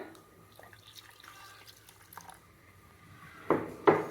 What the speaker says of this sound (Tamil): மிக்ஸி ஜாரை கழுவி ஊற்றிடுங்க